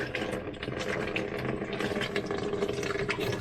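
Water poured into an RV sink drain during a gray water quick-disconnect setup, a steady close splashing and trickling wash that runs continuously throughout without a break.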